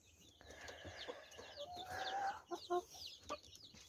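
A laying hen in a coop clucks and murmurs softly among other chickens, giving short, scattered calls over a quiet background.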